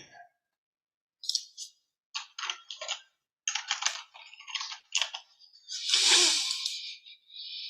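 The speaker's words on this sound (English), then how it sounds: "let me just type it in" Bursts of quick keystrokes on a computer keyboard, close and fairly quiet, arriving in short clusters with brief pauses, ending in a longer soft rustle.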